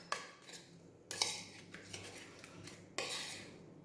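A spoon stirs a garlic and chilli prawn marinade in a bowl. It makes repeated close clinks and scraping strokes against the bowl, in three bursts separated by brief pauses.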